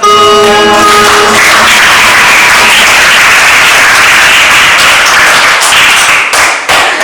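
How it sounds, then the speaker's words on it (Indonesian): Loud, dense applause from an audience at a school teaching session, steady clapping filling the room for several seconds before tapering into a few scattered final claps. "berikan aplaus"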